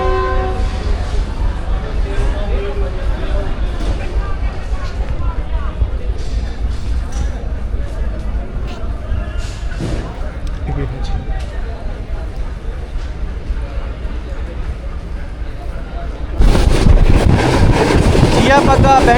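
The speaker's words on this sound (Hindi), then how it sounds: "डिपार्चर वसल हो गया जी रायवन जंक्शन से।" Train horn of the Pakistan Business Express departing Raiwind Junction, a long sustained whistle over rumbling rail noise and wind buffeting, growing louder and harsher near the end.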